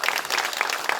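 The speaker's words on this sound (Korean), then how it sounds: "다시 한번 큰 박수로 부탁드리겠습니다" Audience applause at the opening ceremony of the 2024 Gyeongbuk Arts Festival Academy in Gyeongsangbuk-do, a dense, steady wash of many hands clapping close by, continuous for the whole second.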